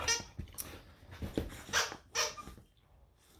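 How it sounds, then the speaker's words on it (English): Pet dogs at play give short barks, yips and squeaky whimpers in quick uneven bursts, nearby and moderately loud. "My dogs are playing if you hear the squeaking in the background."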